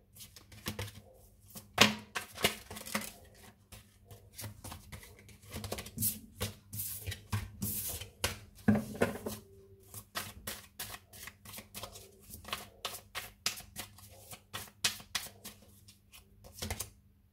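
Playing cards being shuffled and drawn during a tarot-style reading, heard as a string of crisp riffling flicks and soft slaps in irregular bursts, close and fairly quiet, with no talk.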